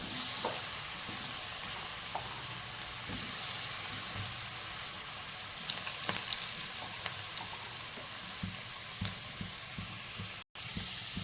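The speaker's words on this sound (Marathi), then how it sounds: "आपण हे फ्राय बटाट्याचे हे फिंगर फ्राईज आपण तेलात सोडून घेऊया आणि तेलात तळून घेऊया" Potato finger fries bubble and sizzle steadily in hot oil, a dense crackling hiss with occasional pops and faint stirring clicks, heard alone without talk.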